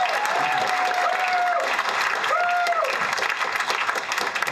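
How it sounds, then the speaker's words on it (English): Audience applause at a George Carlin stand-up comedy show at The Comedy & Magic Club in 2006, a dense, steady roar of clapping filling the room, with a couple of faint whistles cutting through the sustained ovation. "the applause part of the show is over"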